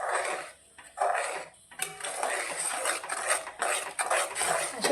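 Thick besan pithla, gram flour whisked into boiling water, is stirred in a pot with a spoon, giving repeated close scraping and swishing strokes in a steady rhythm.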